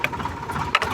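A tractor driven on a single tyre as a stunt gives off a steady mid-pitched engine drone with rattling clatter, plus a couple of brief louder bursts.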